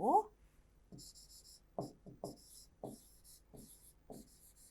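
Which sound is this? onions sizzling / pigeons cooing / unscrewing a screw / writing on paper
writing on paper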